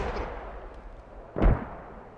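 A TOW missile strikes in the tactical shooter game Squad: a single heavy, booming explosion about midway, preceded by quieter distant rumbles and fading into a low decaying tail.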